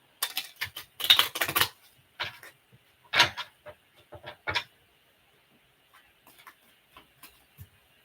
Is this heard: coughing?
no